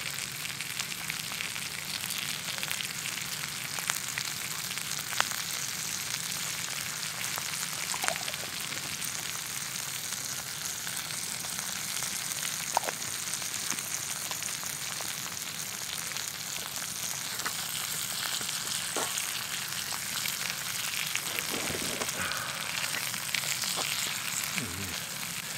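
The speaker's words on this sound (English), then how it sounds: "Smell that puha cooking now." Puha frying in butter in a pan outdoors in the bush beside a creek, a steady, close, continuous sizzle with occasional small pops and crackles throughout.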